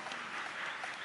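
A one-year-old baby claps its hands at a beach resort in Batangas, giving a brief, faint patter of soft claps with no speech over it.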